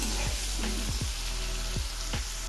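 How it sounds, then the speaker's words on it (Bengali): Vegetables frying in a pan with salt and turmeric for a spinach dish, a steady loud sizzle with a few scraping stirs of a spatula. "এখন আমি সবজিগুলো একটু নেড়ে দিচ্ছি। এই সবজিগুলো খুব ভালো করে ভেজে নেব।"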